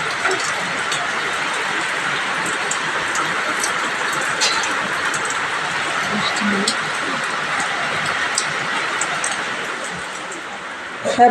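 Rain falls steadily outside a house, a dense, even hiss that holds at the same level throughout with no break.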